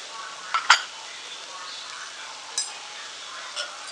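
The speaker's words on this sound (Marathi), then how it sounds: "छान मिक्स करून घेऊया." A spoon scrapes and clinks in a pan while dill bhaji is stirred with besan for a Maharashtrian buttermilk dill dish. There are a few light clinks over a soft background, and no talk.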